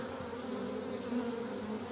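Dense, steady buzzing of many honeybees at a hive, continuous and close, with no voices.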